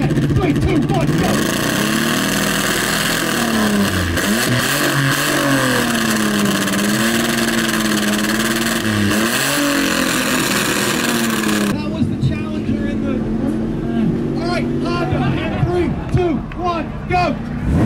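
Corvette engine revving hard on a dyno at an import-versus-American car show, a loud sustained roar with rising and falling pitch, crowd noise behind it and people talking over the run.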